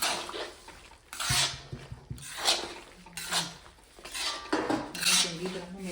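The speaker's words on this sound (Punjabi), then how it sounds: "ਮਿਕਸ ਕਰ ਦੇ ਵਿੱਚ ਚੰਗੀ ਤਰ੍ਹਾਂ ਆਪਾਂ ਨੇ ਇਹਦੇ ਵਿੱਚ ਰਲਾ ਲੈਣਾ ਹੈਗਾ" Dry fruits and sugar are stirred together in a pan for desi ghee panjiri, making repeated close metallic scraping and clinking strokes in uneven bursts, with no talk.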